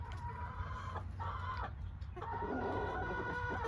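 Several hens cluck steadily in a backyard flock, close by, in overlapping soft calls with a constant low hum underneath and no talking.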